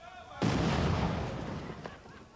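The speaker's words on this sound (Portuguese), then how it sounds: "2 quilos de dinamite foram usados para quebrar as pedras que estavam na pista." A blast of two kilograms of dynamite breaks up rocks lying on a road, a sudden heavy boom followed by a rumbling, fading roar and a smaller thump near the end.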